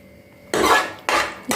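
Dish being scraped clean while raita is served into bowls, two sharp clattering bursts of utensil against a pot with a third starting at the end, close and clear with no talking.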